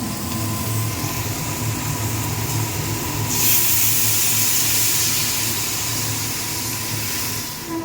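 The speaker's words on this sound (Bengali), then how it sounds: "এবার দিয়ে দেবো হচ্ছে ডালটা। ডালটা বেশ গরম এখন।" Hot dal poured into a pan of cooking mixed vegetables gives a steady, loud hiss of sizzling steam that swells partway through and holds, with a low cooking rumble beneath and no talk.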